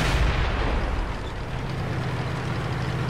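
A tank gun fires in the World of Tanks video game: one loud, deep boom with a long rumbling tail that fills the whole stretch, with no talk over it.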